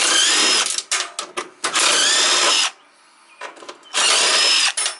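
Power tool fitted with a 3/8 inch socket spins off parts from a Craftsman lawn tractor, giving three loud, sustained whirring bursts with brief ratcheting gaps and a quiet pause between them, up close and with no talking.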